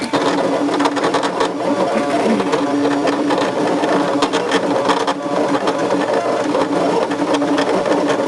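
A Brother ScanNCut machine cutting with a worn, dull blade, giving a steady mechanical whir and buzz that stays loud and continuous throughout.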